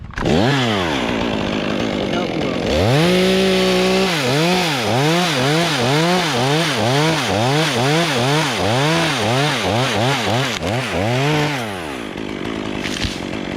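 A chainsaw cuts through a tree, its engine loud and close, holding a steady pitch and then bogging and revving in a fast, regular pulsing rhythm before easing off at the end.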